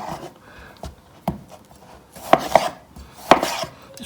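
Knife chopping potatoes into triangular pieces on a board, with scattered soft cuts at first, then a few louder, sharper chops toward the end, close up and with no talking.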